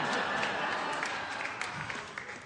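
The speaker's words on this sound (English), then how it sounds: "Oh, you just started clapping right away." Audience applause at a stand-up comedy show, a steady wash of clapping filling the room for the whole stretch, loud and continuous with faint crowd murmur beneath.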